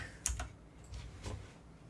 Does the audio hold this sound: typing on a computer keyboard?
yes